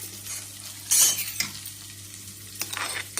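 Onion fries with cracked cardamom and ginger-garlic paste in a pan, a soft sizzle broken by a sharp metal spoon clink and several stirring scrapes; no speech.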